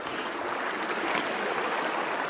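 A small Dartmoor brook flows steadily beneath a clapper bridge of granite blocks, a close, continuous rush of water with no voices.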